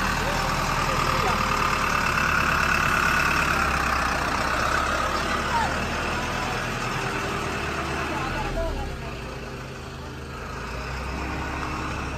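A vehicle engine idles and then revs as it pulls away, a low continuous rumble with people talking over it.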